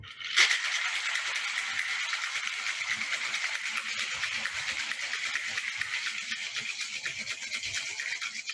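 A cocktail shaker is worked hard and fast for about eight seconds, giving a steady, dense, bright rattle of ice churning against metal, close and loud, with no talking.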